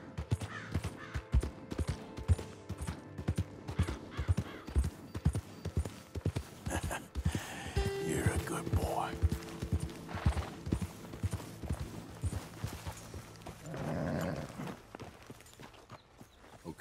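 Steady, rhythmic clip-clop of horse hooves plodding along at a walking pace, with faint ambient sounds and occasional distant bird calls behind, in the video game Red Dead Redemption 2.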